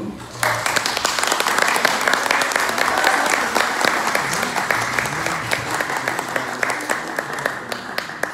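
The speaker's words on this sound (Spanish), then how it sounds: "Quisiera, de favor, que le brindaran un fuerte aplauso al licenciado Roberto Villaseñor" An audience at a formal gathering of a national council of organizations gives sustained, dense applause for licenciado Roberto Villaseñor, steady and loud throughout, with faint voices mixed into the crowd.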